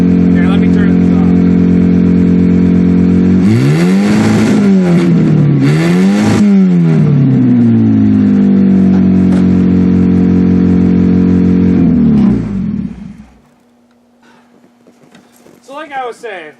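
An old Buick Iron Duke engine runs after a cold start with a loud, steady drone, revs up and down twice, then shuts off. A voice follows near the end.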